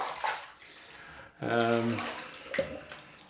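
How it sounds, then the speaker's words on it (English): Tap water running into a shaving bowl, a sudden gushing fill with a rising hollow tone lasting about half a second, amid soft handling noises and a voice nearby. "Just filling up my bowl."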